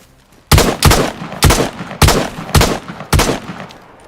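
Gunfire in DayZ on the snowy Frostline map of Sakhal: six loud, sharp shots or short bursts spaced roughly half a second apart, each with a brief trailing echo, heard alone without talk.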